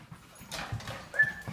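A young dog at an ASPCA animal shelter in New York City makes a short whimper with a little panting and shuffling, close by and brief.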